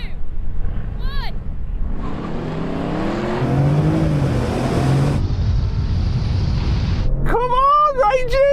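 Range Rover V8, Mercedes-AMG, Audi and Bentley Bentayga SUVs accelerating hard off the line in a drag race, a loud rising engine roar swelling for several seconds, with voices talking before and after.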